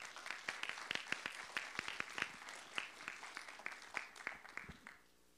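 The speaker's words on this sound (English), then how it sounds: "Let's have a round of applause." A church congregation at a youth Sunday service gives a round of applause, quiet and somewhat distant, with distinct claps in a loose rhythm that thins out and stops near the end.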